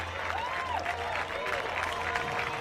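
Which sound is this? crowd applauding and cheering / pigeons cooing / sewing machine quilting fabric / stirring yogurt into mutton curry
crowd applauding and cheering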